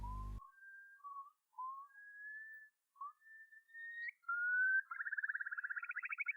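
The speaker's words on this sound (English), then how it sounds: "a curlew crying at night" A curlew's plaintive, rising whistled calls repeat in a series at night, clear and alone, ending in a faster bubbling trill.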